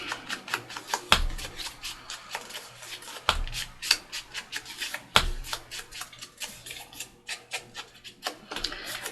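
Ink blending tool rubbed across paper for junk journal ephemera, a quick series of soft scratchy swishes in an uneven rhythm with a few sharper taps, close and fairly quiet.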